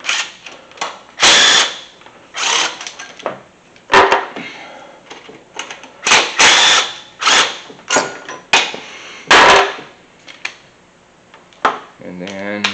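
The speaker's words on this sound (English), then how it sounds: "now let's take off this power steering bracket brace. These are 15 mm here." A socket wrench removes 15 mm bolts from the power steering bracket brace on a Mustang engine: loud bursts of metallic ratcheting and clanking come in short irregular runs, with a clunk or two between them.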